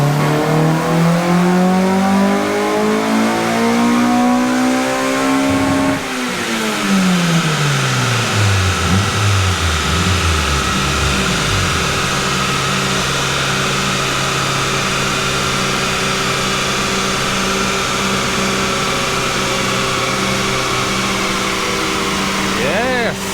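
A Honda Jazz with a swapped-in K20 Type R engine revs up and down with rising and falling pitch, then holds a loud steady drone, heard up close.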